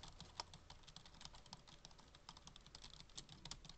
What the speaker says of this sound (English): I'm just gonna randomly type in gibberish right here.